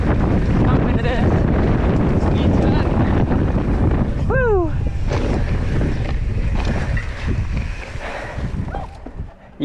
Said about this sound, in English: It's a little windy though.